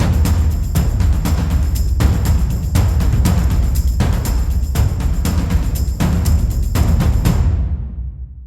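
Three layered percussion rhythms with different accents play together in a dense, steady groove, loud and continuous with regular hits, ending in a short decaying tail.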